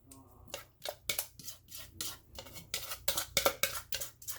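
Frozen broccoli being stirred together with cheese and soup in a crockpot, producing a run of close, crisp scraping and clinking strokes in a fairly quick, uneven rhythm.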